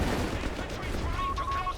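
StuG assault guns fire in Company of Heroes 3 amid a continuous roar of battle, heavy booming rumble throughout, with a commentator's voice over it.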